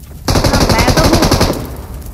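A long, loud automatic burst of rapid gunfire erupts in the BGMI video game, a fast steady rattle of shots that lasts over a second before tailing off.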